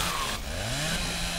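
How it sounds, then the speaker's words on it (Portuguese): A chainsaw revs and whines loudly while cutting through zombies in Dead Island Riptide, its engine pitch sweeping up and down in a short burst with no talk over it. "A motosserra vai logo com os porcos para dar rápido, Zé."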